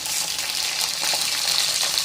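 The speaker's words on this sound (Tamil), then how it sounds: "இப்போ வந்து நம்ம பச்சை மிளகாயும் தக்காளியும் போடுறோம்." Green chillies and tomatoes hitting golden fried onions in a pan for Tamil fish curry, a steady loud sizzle and crackle of frying with faint stirring, no voices.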